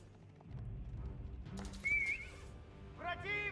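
Horses neigh amid battle noise in the real-time strategy game Age of Empires 4, with a whinny rising over low rumbling combat sounds and a second neigh near the end.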